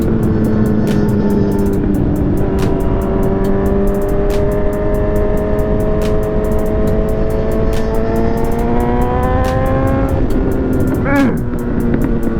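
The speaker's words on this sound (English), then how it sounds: "Do y'all hear the popping? I hear the popping." A Honda CB1000R motorcycle runs loudly and continuously, its engine pitch sweeping up and down through several revs while sharp exhaust pops crackle throughout, close to the listener, with no talk over it.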